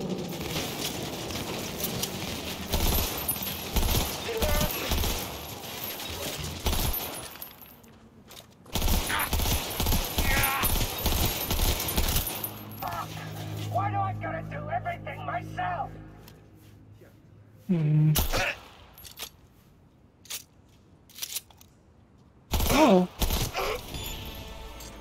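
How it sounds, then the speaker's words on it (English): Bursts of rapid gunfire in a video game crackle between stretches of talk, with clustered volleys and a few sharp isolated shots near the end. "I can shoot them, but they can't shoot me."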